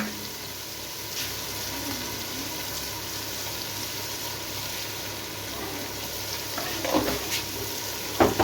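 Chili powder, turmeric and salt frying in ghee in a pan, a steady close sizzle and crackle throughout, with a few brief louder clinks near the end.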